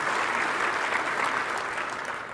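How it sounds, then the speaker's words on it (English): A conference audience applauds steadily in a presentation hall for a guest expert, a dense, continuous clapping that fills the room and fades slightly at the end, with no talking over it. "How about a round of applause for Matt?"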